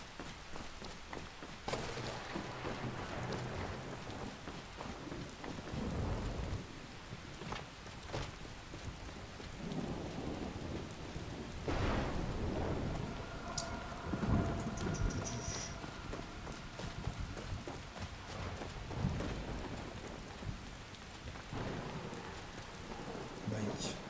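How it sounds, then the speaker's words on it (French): Steady rain and rolling thunder in the video game Skyrim, where the weather effect is glitching. The downpour hisses continuously throughout, with low thunder rumbles swelling in several places and a few brief tonal game sounds on top. "Oh non, ma pluie qui bug encore."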